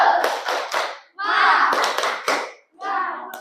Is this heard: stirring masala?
no